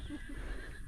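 Horses neigh and snort on a backcountry horse trek in New Zealand, a loud close whinny filling the short moment with hoof clatter beneath it.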